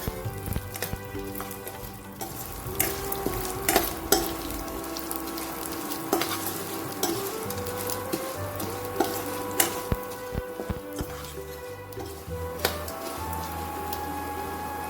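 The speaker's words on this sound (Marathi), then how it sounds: "डाळी भाजताना त्या सगळ्या कोरड्याच घ्यायच्या आहेत" Red lentils dry-roasting in a pan for sambar, a steady soft sizzle with light scraping stirs and occasional ticks from the grains shifting, close and continuous.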